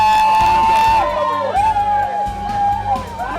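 Crowd cheering and whooping greets runners at the Kilimanjaro Marathon finish line, loud and close, with a sustained high shout and excited voices rising and falling.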